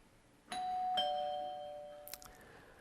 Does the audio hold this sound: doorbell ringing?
yes